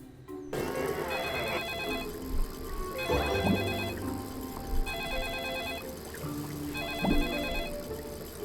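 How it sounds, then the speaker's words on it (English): Telephone ringing in the Desperate Housewives video game, four evenly spaced bursts of a bright electronic bell trill over background game ambience and music. "Why does that telephone start ringing the moment..."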